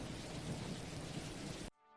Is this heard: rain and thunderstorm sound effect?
yes